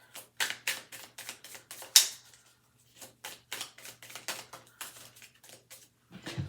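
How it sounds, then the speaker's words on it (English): Rapid bursts of tarot cards being riffled and tapped, several quick shuffles in a row with brief pauses between, close and fairly quiet. "Sometimes it's difficult to shuffle for me."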